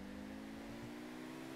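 An Overflod electric sports car in GTA 5 produces a faint, steady motor drone with a sustained humming tone and no clear revving swell, heard alone.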